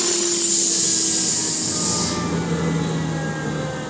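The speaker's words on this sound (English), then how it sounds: "That drops out the vacuum pump and the unit shuts down." An ABB VPM vacuum pump stops and the unit powers down, its steady mechanical hum and high whine dropping away partway through and leaving a fainter, continuing drone.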